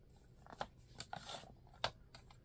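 Scissors cutting paper for a junk journal, a few quiet separate snips and crisp paper rustles, close up and faint with no talk.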